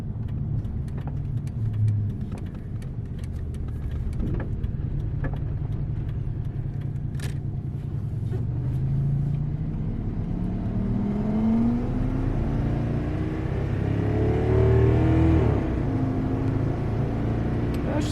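A V10 pickup truck accelerates hard, its engine rising in pitch through the revs with a deep rumbling drone and whir from inside the cab, climbing steadily with no talking.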